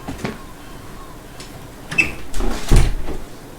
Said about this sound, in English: There we go, got the door shut.